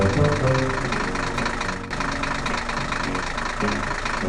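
Animated tractor and excavator engines run steadily, a rough, throbbing mid-to-low idle with a knocking texture that stays loud and close throughout, with a brief dip partway through.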